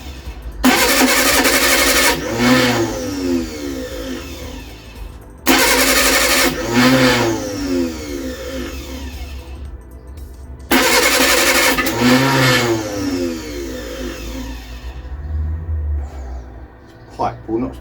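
Reliant Supervan with a freshly built engine cranking repeatedly without starting: three loud bursts of starter churn, each followed by fading sputters, with brief talk in between.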